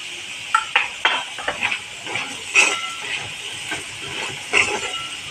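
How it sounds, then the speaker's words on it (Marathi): Chickpeas roasting with red chili powder in a pan, giving a steady hiss with scattered sharp crackles and pops, close and moderately loud, with no voices. "हे बघा फटाफट आवाज येतोय"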